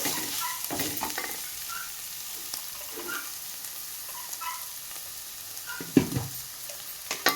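Goat head meat curry sizzling in a pan while being stirred, soft scraping strokes over a steady frying hiss, with a couple of sharper clinks of the utensil near the end.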